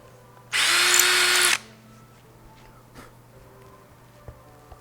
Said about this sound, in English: I'm going to run this on a low speed because this is drilling through the chamber.